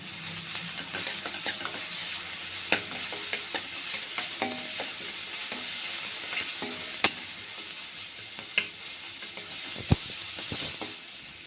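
Ginger garlic paste fries with onions in a pan for a mushroom curry, a steady hissing sizzle broken by frequent scraping and tapping from stirring.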